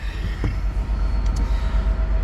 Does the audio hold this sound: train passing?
yes